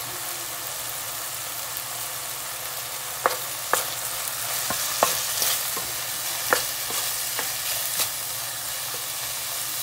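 Carrots tossed into a hot pan and stir-fried for pancit bihon: a steady close sizzle with sharp, irregular scrapes and clacks of a utensil against the pan.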